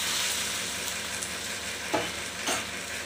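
Okra sizzles steadily in a pan while being cooked down for chutney, a dense continuous frying hiss with a couple of brief stirring scrapes, close and alone without talk.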